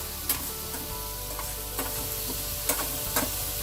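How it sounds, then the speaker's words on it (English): Onions sautéing in a pan for a spicy Chettinad fish and drumstick curry, a steady sizzle with a few sharp scraping stirs and clinks standing out, no talk. "I'm going to saute my onions down really well"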